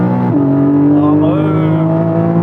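Porsche engine held at high revs by anti-lag, a loud, steady droning roar that rises slightly in pitch and stays sustained throughout, with people talking over it.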